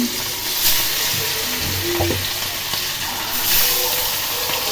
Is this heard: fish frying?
yes